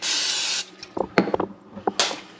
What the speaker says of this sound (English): Take that bowl and spray it